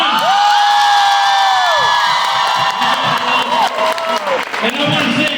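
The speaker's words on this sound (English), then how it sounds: "A big round of applause for Jensen and Misha" A large convention crowd applauds and cheers for Jensen and Misha at a fan panel, loud and close, with piercing whoops and shrieks rising over continuous clapping.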